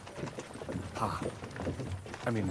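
Horses gallop in the medieval role-playing game Kingdom Come: Deliverance II, with a steady run of hoof clatter under continuous speech throughout.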